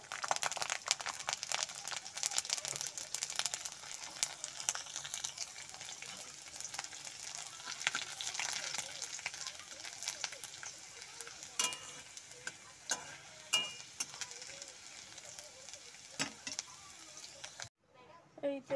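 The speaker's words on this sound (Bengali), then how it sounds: "এবারে রসুনগুলো ভেজে নেব।" Garlic cloves fry in hot oil in a pan, a close steady sizzle with crackling pops and occasional stirring scrapes, ending in a brief near-silence.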